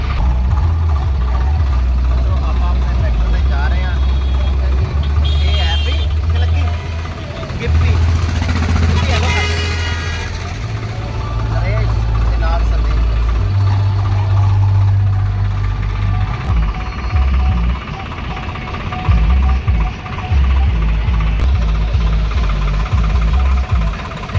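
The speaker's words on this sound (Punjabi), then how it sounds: "ਆਪਾਂ ਵੀ ਆਪਣੇ ਟਰੈਕਟਰ ਨੂੰ ਲੈ ਕੇ ਜਾ ਰਹੇ ਹਾਂ" A tractor rumbles along in a village Nagar Kirtan procession, its heavy low engine drone steady and close. A voice talks over it almost throughout, and there are occasional bumps and rattles.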